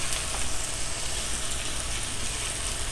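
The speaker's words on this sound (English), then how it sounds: "saute the veggies until them become translucent" Vegetables sauté in a pan for Jamaican tinned mackerel run down, giving a steady, close sizzle that holds at an even level throughout with no talk over it.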